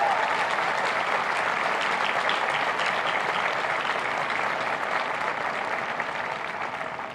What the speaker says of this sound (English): Please join me in giving our faculty and staff a round of applause.